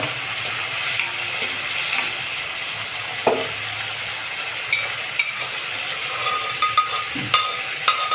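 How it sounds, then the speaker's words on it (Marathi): Chickpeas with red chilli and salt sautéed together in a pan give off a steady, moderate sizzle, with occasional scrapes and clinks as they are stirred and no talking. "हे सगळं एकत्र परतून घेणे."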